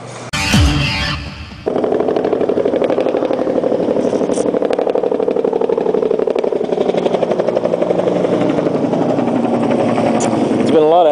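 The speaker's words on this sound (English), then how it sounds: "There's been a lot of helicopters going around here recently." Helicopter flying in a video game, its rotor beating in a steady, loud, rhythmic chop that drones for most of the clip after a short burst of clatter at the start.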